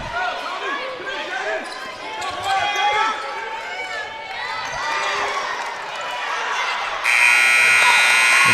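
A loud, steady electronic buzzer sounds at the end of a quarter in a regional high school basketball game between Fort Gibson and Jay, arriving after sneaker squeaks and crowd noise with a commentator talking throughout.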